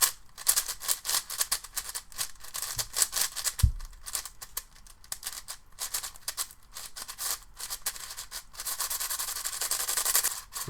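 Layers of a 10x10 Wushwang puzzle cube being turned in quick bursts, giving a smooth, slightly scratchy rapid clicking and rubbing, close and continuous, with no talking.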